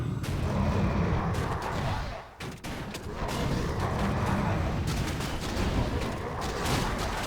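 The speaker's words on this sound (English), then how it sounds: "Nice use of fireballs" Fireball spells slamming into troops in a High Elves versus Skaven tabletop-style battle game, a dense roar of booming impacts and crackling volleys with a brief lull midway, loud and sustained.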